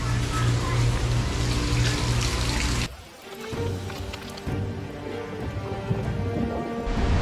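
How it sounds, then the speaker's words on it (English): Heavy hurricane rain pours steadily at Disney World, briefly quieting for a moment before the dense rushing patter returns, with faint tonal sounds beneath. "You can see the rain's definitely picking up."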